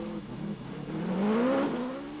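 A 4.5 litre Oldsmobile-based V8 rally car at a 1984 forest rallysprint, a short engine rev rising in pitch as it accelerates past, moderately distant and alone.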